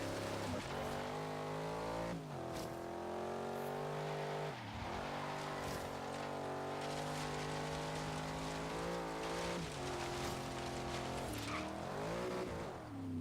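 A truck engine in the Forza Horizon 3 racing game drones continuously as it races, its pitch rising and falling through gear changes, loud and unbroken with no talk.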